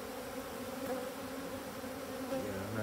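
A dense, steady hum of many honey bees buzzing close by at an open hive, continuous and fairly quiet, with no talking.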